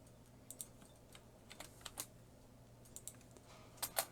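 Fingers type a town, state and zip code on a computer keyboard, with scattered soft key clicks in short irregular bursts, close and quiet, with a couple of sharper taps near the end and no one speaking.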